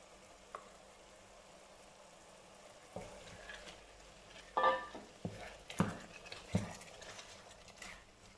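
Pork frying in a pan for Thai green curry, a quiet sizzle with a few sharper stirring clatters and scrapes toward the end.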